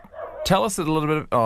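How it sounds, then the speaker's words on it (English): A dog barks and yips close by, excited high-pitched bursts mixed in with people talking over it. "that's the dog's just found out he's going to daycare"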